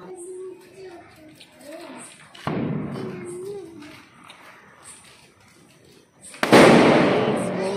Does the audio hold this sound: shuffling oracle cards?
no